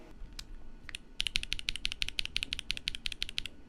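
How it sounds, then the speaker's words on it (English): Fast, even typing on a mechanical keyboard fitted with a Razer keycap, crisp close clicks in a steady run after a few scattered opening keystrokes. "Notice how it sounds fine when we use the Razer keycap"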